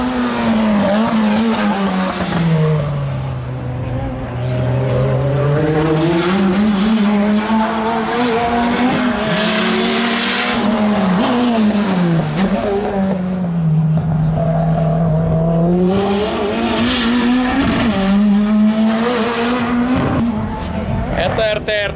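Race car engines roar continuously nearby, pitch rising and falling as they accelerate and shift through gears on the track.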